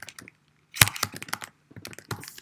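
Quick bursts of keystrokes on a computer keyboard tap out in two short runs separated by a pause, close and crisp, with no talking.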